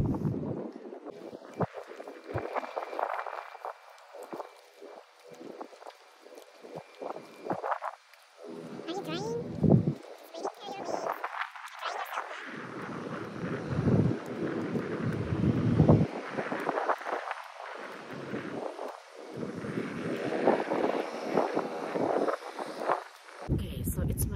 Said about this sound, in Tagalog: Kasi malakas ang hangin.